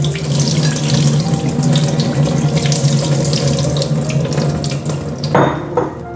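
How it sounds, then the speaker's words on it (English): Tap water runs steadily into a sink, rinsing buckwheat grain, a continuous close splashing rush with a brief louder burst near the end. "I rinse it with the municipality water."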